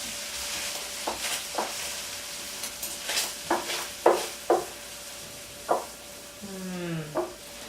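Casserole contents being spooned into an 8-inch baking dish sprayed with cooking spray, a run of soft scraping and clinking strokes of a spoon against the dish, some louder than others, ending in a brief ringing scrape.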